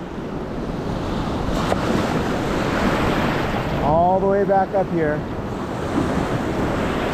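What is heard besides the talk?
ocean waves breaking on a San Diego beach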